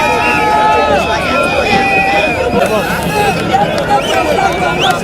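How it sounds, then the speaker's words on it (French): A jubilant crowd in Kinshasa awaiting a politician taking office at the National Assembly, a continuous babble of many voices and shouts with whistles and singing-like calls, busy and close throughout. "Ici, c'est une autre foule en liesse qui l'attendait également."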